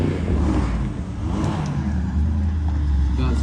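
A Mercedes-AMG car with a twin-turbo 4-litre V8 accelerating at a driving display at Mercedes-Benz World, a loud, steady low engine roar filling the scene, with faint crowd or voices underneath.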